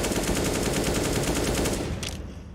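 Gunfire rattles through a wall in a Counter-Strike match, a rapid, sustained automatic burst that is loud and close throughout and tails off slightly at the end.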